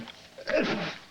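A single sneeze, fairly close and moderately loud, with a short breathy intake just before the burst.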